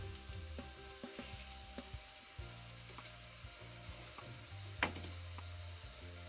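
Red chillies sizzle and crackle steadily in hot oil for Mirch Tufani, with occasional stirring clicks and scrapes over a continuous frying hiss, close and moderately loud, no voices.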